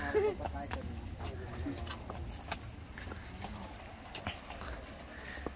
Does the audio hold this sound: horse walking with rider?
yes